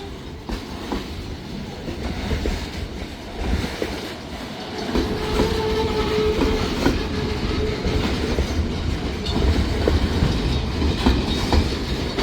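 A long freight train rolls past nearby with steady rumbling and repeated clickety-clack of wheels over rail joints, occasional squeals, growing louder and holding a continuous roar.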